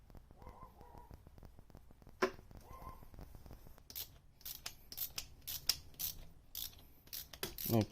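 Bolts on Honda Civic exhaust headers are tightened with a ratchet, giving bursts of quick clicking pawl sounds interspersed with metallic clanks and handling noises at close range.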